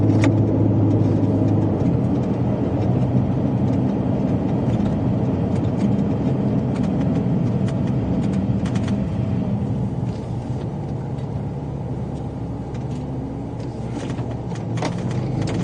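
A car drives along a road during a Colorado storm chase, its engine and tire rumble holding steady and close throughout with no talk, easing slightly quieter in the last few seconds.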